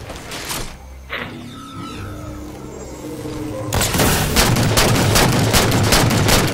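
Gunfire in the Halo 4 video game starts with a few scattered shots and then becomes rapid, loud automatic fire that dominates the last few seconds, with some electronic game tones underneath.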